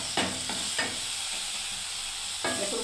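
Spices with cardamom stir-fried in a pan, giving a bright steady sizzle close by and loud, with a few scraping stirs of a utensil on the pan.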